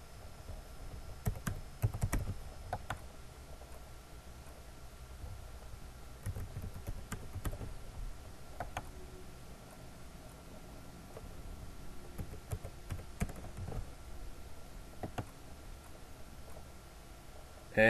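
Rapid typing on a computer keyboard, steady bursts of light key clicks close by with brief pauses between runs, no voices.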